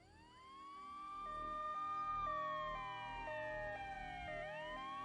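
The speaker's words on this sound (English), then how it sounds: "I heard the sirens and saw 2, maybe 3 fire engines driving past very fast." Several fire engine sirens wail together as the trucks race past, overlapping rising and falling tones with a two-tone hi-lo pattern, swelling louder and then sliding downward in pitch as they go by.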